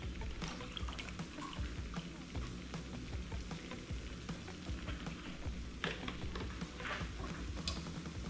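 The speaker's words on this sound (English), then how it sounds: "So I have half and half. Okay, so I'm going to measure out 2 cups of this." Half and half being poured into a measuring cup in a kitchen, a steady low liquid pour running continuously, with sizzling from a roux cooking nearby underneath.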